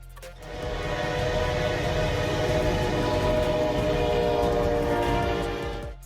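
A loud, rumbling train rolling along the rails, heavy and continuous, with a long steady horn blast sounding over the clatter.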